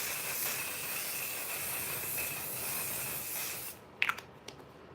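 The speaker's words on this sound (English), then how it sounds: "This is a magnifying waterproof setting spray." A steady hiss of On Till Dawn waterproof makeup setting spray runs for several seconds, then stops, followed by a few soft clicks and taps up close.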